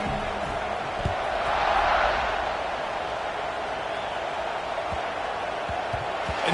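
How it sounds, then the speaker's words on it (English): Dense stadium crowd noise from a college football video game, a steady loud roar and buzz with faint thuds underneath, continuous throughout. "this crowd is buzzing after that last score"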